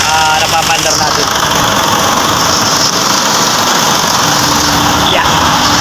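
An Isuzu 4HF1 diesel engine idles steadily and close by, a continuous loud rumble with a busy, rattling clatter that holds even throughout.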